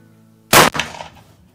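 A single sharp rifle shot fired while zeroing a HIKMICRO thermal scope, loud and close, with a short echoing tail that fades within a second.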